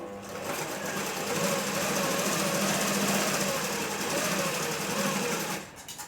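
A sewing machine stitching a kunchige baby hood runs in one steady, continuous whirring burst at close range, holding an even rhythm for several seconds before stopping abruptly near the end.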